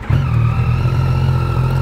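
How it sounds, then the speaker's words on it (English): A motorcycle fitted with a Yoshimura AT2 exhaust idles on a cold start, a loud, steady, deep throbbing burble that holds alone throughout. "Last cold start with this Yoshi."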